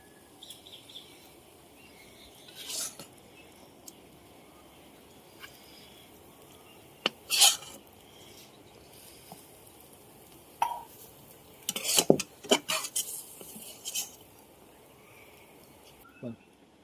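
Cooked taro leaf curry with chickpeas is scraped from a pan into a bowl, with scattered clinks and scrapes of a spatula against metal, sparse and fairly close, amid quiet room noise.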